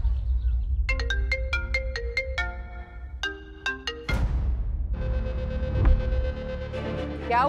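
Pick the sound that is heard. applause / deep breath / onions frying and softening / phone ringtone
phone ringtone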